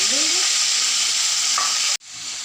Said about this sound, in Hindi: हमने जो गोश्त अब इस पर रख दिया ऑयल के अंदर, और उसके ऊपर हमने जो हमारा मसाला था वो डाल दिया